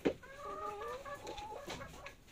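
Free-range hens clucking close by during an egg harvest on a chicken farm, a soft run of drawn-out murmuring clucks after a brief knock, with no talk.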